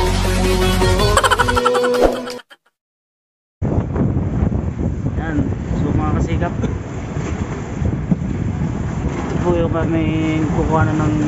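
Strong wind at sea buffets the microphone with heavy rumbling gusts during a squall on a fishing boat, joined by water noise and a voice speaking over it after a brief dropout.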